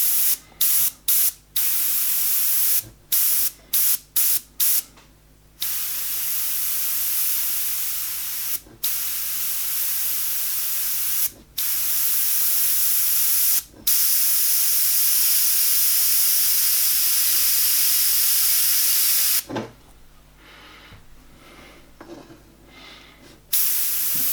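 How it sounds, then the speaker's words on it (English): Paint sprays from an airbrush in short bursts and longer hissing passes while a model miniature is being detailed, with sharp stops between sprays and a long continuous spray near the end; nobody speaks. "Just get the paint flowing and keep the trigger in the same position."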